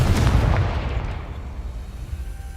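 A Confringo blasting spell explodes in the Hogwarts Legacy video game: a loud deep boom with rumble that decays into a fading low roar over a couple of seconds.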